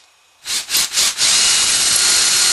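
Drill bit boring through the shank of a vintage tobacco pipe, starting after a brief silence with several short rhythmic rasping bursts, then settling into a steady, loud, close hissing grind with no talk.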